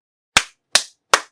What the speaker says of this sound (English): You can find your own kind of personal way to count with claps.